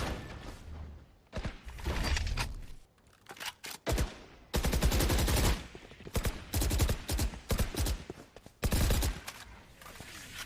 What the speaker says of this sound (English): Couple of pre-fire shots here through mid, making sure that no one's on the other side